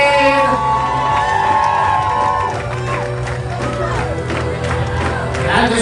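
Wedding reception guests clap and cheer as the bridal party enters, a lively crowd roar with whoops and shouts over dance music and amplified voices.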